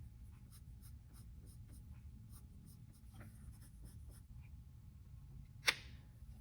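Colored pencil cross-hatches on paper in quick, rhythmic strokes, a close, soft scratching repeated evenly, ending with one sharper tap, with no talking.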